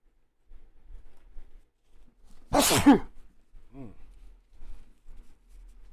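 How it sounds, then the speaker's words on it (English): A single sharp sneeze bursts out loudly over faint background noise, followed by a brief quiet vocal sound. "Now I have to sneeze."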